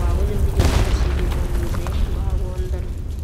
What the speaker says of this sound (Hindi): अब ऊपर से बॉम्ब गिरेगा धड़ाधड़